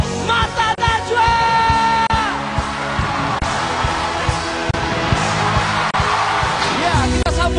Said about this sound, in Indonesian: Tepukan yang paling keras buat tuan rumah Mata Najwa.